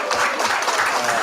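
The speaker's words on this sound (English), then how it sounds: "so give it a round of applause." A brief burst of steady audience applause at a talk, celebrating a guest's 21st birthday, with a dense, even clapping texture and faint voices underneath.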